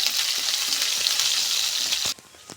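Chopped garlic and green chillies sauté in hot oil with a loud, bright, continuous sizzle that cuts off abruptly, leaving a few light taps of a utensil against the pan.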